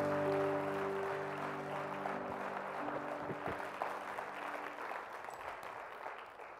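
A church congregation claps in sustained, steady applause at a worship service, a dense wash of hands with a held organ or keyboard chord fading beneath it.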